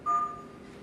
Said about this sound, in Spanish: La alarma se encuentra encendida, pero también se puede apagar.